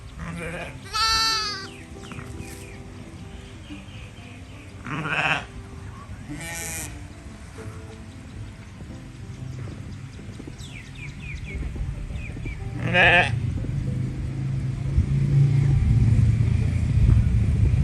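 A ewe and her newborn lamb bleat on a resort farm in Suan Phueng, Ratchaburi, Thailand, with a few clear, wavering cries spaced several seconds apart, nearby and prominent, before a low rumbling background swells toward the end.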